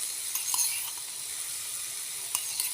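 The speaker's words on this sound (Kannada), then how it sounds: "ಇದನ್ನು ಸ್ವಲ್ಪ ಎಣ್ಣೆ ಹಾಕ್ಕೊಂಡು ಹುರ್ಕೋಬೇಕು" Raw green tomatoes fry in oil with a steady, close hiss and sizzle, broken by a few soft clinks of a utensil stirring the pan.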